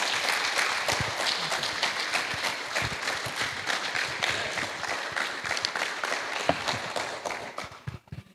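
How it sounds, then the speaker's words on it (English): Sustained audience applause at a mental health symposium, many hands clapping together in a dense, steady wash for several seconds before tapering off at the end. "Let's give him another round of applause."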